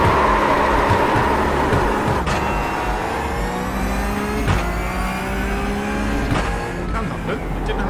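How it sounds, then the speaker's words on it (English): A car performs a burnout in the iRacing sim: a loud, steady engine roar held at high revs with tire noise, the pitch sliding and rising in several sweeps, and a brief sharp knock now and then. "let's bring the car to a stop and do fourth burnout"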